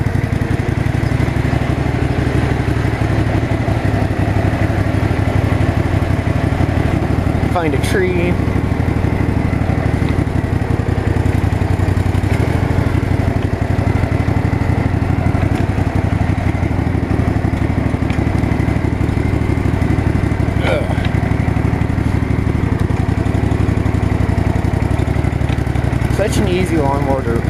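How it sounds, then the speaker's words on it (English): Riding lawn mower engine running steadily after a cold start, a continuous loud rumble through the whole stretch while a person talks over it. "Such an easy lawnmower to drive."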